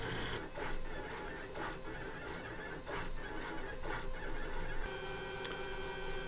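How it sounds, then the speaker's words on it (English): A Lulzbot Mini 3D printer at work with its cooling fan running, giving a steady close whir overlaid by rhythmic squeaking, rasping stepper-motor chirps that shift pitch, then the tone changes to a smoother hum near the end, with no speech. "there's also a cooling fan with this kind of baffle thing, which blows cold air on the print when it's needed."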